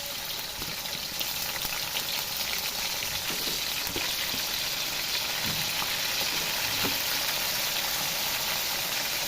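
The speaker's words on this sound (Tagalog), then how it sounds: "For me, ididiretso ko na siyang igigisa." Ingredients sauté in a pan for Kapampangan bianda, sizzling steadily and evenly throughout, with faint clicks from stirring now and then and no talk.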